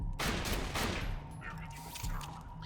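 Hyperion shotgun blasts from Borderlands The Pre-Sequel, a few loud broadband bursts over a dense, busy game soundscape.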